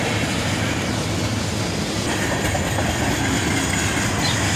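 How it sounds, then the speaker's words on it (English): A freight train with three locomotives rolls past at steady volume, a continuous broadband rumble of railcars with faint wheel clatter and squeal. "the tail end of the train passes us. A fairly short train for having 3 locomotives on."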